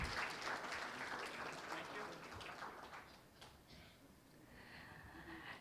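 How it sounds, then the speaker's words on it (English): An audience at a BSE stock exchange listing ceremony applauds, with faint, distant, sustained clapping that mixes with voices. "Can we make a big round of applause, everyone?"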